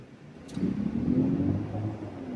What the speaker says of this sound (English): I'm going to go ahead and give you guys a shot of the engine.